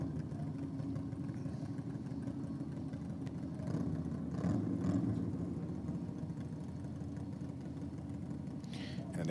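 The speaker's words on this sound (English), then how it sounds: "Barra bikes leaving the start line now." Drag racing bikes, Barra bikes, launching from the start line at a drag strip, heard as a steady, loud engine drone that swells slightly midway, with a commentator talking over it.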